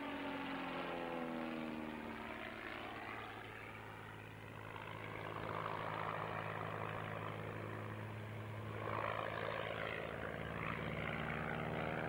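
An agricultural propeller aircraft at an ag-aviation reunion drones steadily at moderate distance, its engine tone shifting slightly as it runs, with no one talking.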